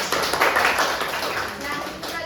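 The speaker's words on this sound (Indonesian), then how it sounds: "terima kasih tepuk tangan" A junior high classroom during a microteaching practice session claps together, a short burst of close, fairly loud applause that tapers off, with a voice talking over it.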